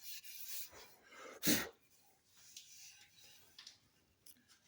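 Rag wiping residue off a rifle stock, a scattered series of soft rubbing strokes with one louder scrape near the middle, close and fairly quiet with no talking.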